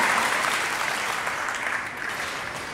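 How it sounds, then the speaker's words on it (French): Steady, dense applause from a live audience greeting a performer at a magic convention, loud and continuous throughout with no other sounds over it. "Mesdames, Mesdemoiselles, Messieurs, de gros applaudissements pour ce grand monsieur."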